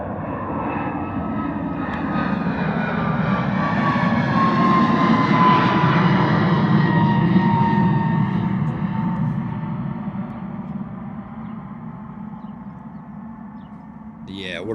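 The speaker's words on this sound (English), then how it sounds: "Nice rotation there from the 321neo. Looking absolutely fantastic on the departure." Airbus A321neo jet on a reverse-ops runway 09 departure from Bristol Airport: a loud, broad engine roar that swells as the aircraft rotates and climbs, then slowly fades as it moves away.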